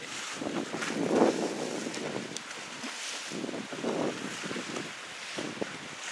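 Wind blowing at a Lake Superior shoreline, buffeting the microphone in rumbling gusts that swell and ease over a faint wash of water.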